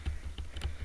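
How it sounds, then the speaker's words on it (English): Typing on a computer keyboard with sticky, crumb-clogged keys: quick, uneven clicks and taps close to the microphone, with a steady low hum underneath. "Let me get these crumbs out of my keyboard real quick."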